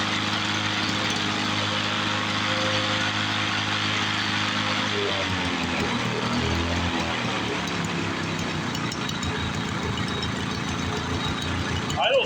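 A 1986 Toro with a rare two-stroke Suzuki engine idles in a steady, loud, close drone with a rough rumbling texture that shifts slightly partway through and holds for the whole stretch.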